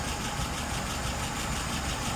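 A car engine idles at about 660 rpm with a steady low rumble, continuous and even throughout, with no other sounds.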